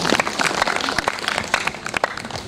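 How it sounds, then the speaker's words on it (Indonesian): Audience clapping at a camping and travel talk, a short, lively burst of many hands with sharp individual claps standing out, fairly close and loud throughout. "Ada yang mau tepuk tangan, jangan ragu-ragu dong,"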